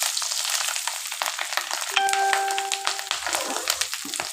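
Fish roe fritters fry in a pan of hot oil, a close, dense sizzle with crackling pops throughout, plus a brief metallic ring and a spatula scraping near the end.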